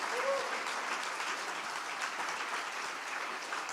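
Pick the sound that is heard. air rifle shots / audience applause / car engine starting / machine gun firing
audience applause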